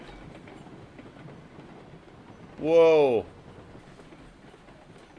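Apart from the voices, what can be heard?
train cars rolling on rails in RailRoads Online video game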